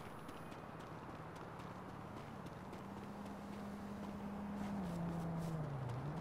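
Horses gallop on a horse track in the video game GTA 5 Online, a rapid, steady clip-clop of hooves at moderate distance with a sustained low engine-like tone beneath.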